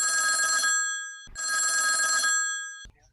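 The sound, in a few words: telephone ringing with an incoming call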